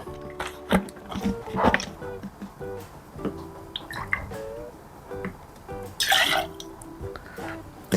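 Orange juice trickles and drips as it is poured into a measure for homemade pumpkin liqueur, with small glassy clinks and a louder splashy pour near the end.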